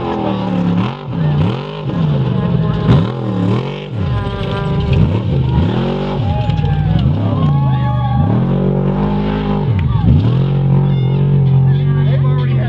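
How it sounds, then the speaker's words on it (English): A Baja 500 off-road race vehicle in Mexico runs roughly, its loud engine surging and sagging in uneven revs and bogging pulls, heard close and continuous. "Uh-oh, that engine's not working well."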